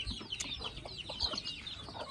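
Chickens cluck softly in a farmyard while being fed scattered grain, a quick run of faint, busy clucks heard close amid low background noise, no voices over them.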